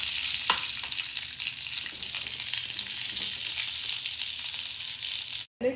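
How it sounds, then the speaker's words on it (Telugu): Amla gooseberries frying in a kadai, a bright steady sizzle close to the pan with a sharp stir near the start and a brief dropout just before the end. "అదే కడాయిలో ఉసిరికాయలు ఫ్రై చేసుకోవాలి."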